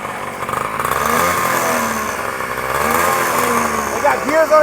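A 125cc dirt bike engine revving during a tune-up, a close, rising and falling buzzy drone that swells in repeated throttle blips, with people talking nearby.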